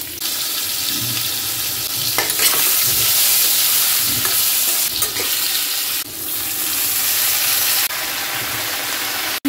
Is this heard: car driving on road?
no